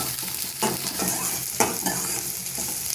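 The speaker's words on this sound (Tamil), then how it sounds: "சின்ன வெங்காயம் ஆட் பண்ணிட்டோம் வரமிளகாய் இதை நல்லா வதக்கிக்கிறோம்" Shallots, dried chillies and mustard seeds sautéing in groundnut oil, a steady close sizzle with repeated scraping stirs of a utensil in the pan, no voices.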